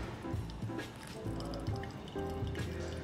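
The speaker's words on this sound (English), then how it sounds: "I'm gonna pour really heavy, tight circles here in the middle, raising up to 150 grams total" Water pours heavily in tight circles onto coffee grounds in a Hario V60 brewer, a soft continuous trickle and gurgle at close range, gently rising and falling in intensity.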